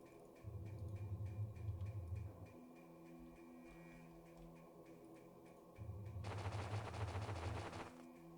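Gunfire in the turn-based strategy game X-Piratez: two bursts of rapid automatic weapon fire, each lasting about two seconds, the second ending in a bright crackling blast, over a quiet game hum and music.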